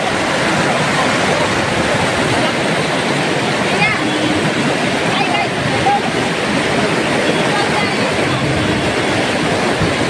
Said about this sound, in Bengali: পাহাড়ের ওপর থেকে নেমে আসা জলের কলকল শব্দ চারিদিকটা একদম মুখরিত করে তুলেছে